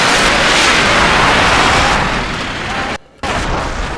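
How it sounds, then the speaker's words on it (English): A rocket made from advanced solid rocket boosters explodes in Kerbal Space Program, a loud, continuous roaring blast lasting several seconds. It breaks off abruptly for a brief moment, then resumes the rumble. "Oh, it's exploding."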